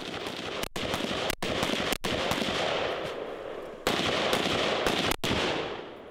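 Gunshots ring out during military close-quarters combat shooting drills at nearby targets, several loud sharp reports spaced irregularly over a dense, continuous roar of outdoor noise.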